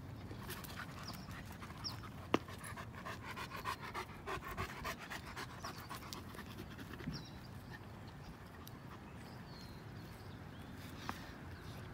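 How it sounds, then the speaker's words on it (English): Two German shepherd dogs pant steadily and rhythmically close by on a Sunday morning walk, quiet breathy puffs with faint footsteps and an occasional click. "George, being the older dog, tends to lead Henry."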